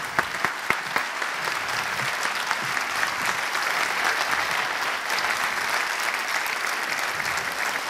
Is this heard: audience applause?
yes